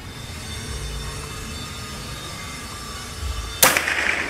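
A Bocap Predator PCP air rifle with a folding stock fires once, a single sharp crack near the end that cuts through a steady low background hum, followed by a brief ringing tail.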